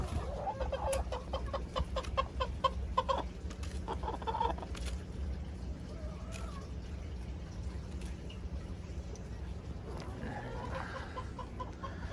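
Several chickens cluck and chatter nearby in quick bursts, over a steady low background hum, the clucking thinning out later on.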